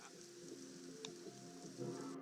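Rain falling in the video game The Sims 4, a soft, steady patter under faint tonal game sounds and a brief click, fairly quiet and without voices.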